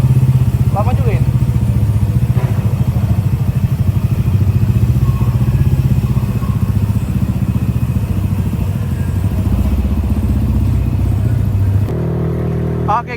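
A freshly serviced, bored-up motorcycle is brought down from the second floor to the first, its engine giving a loud, steady low rumble throughout, with a few clatters and a change in tone near the end.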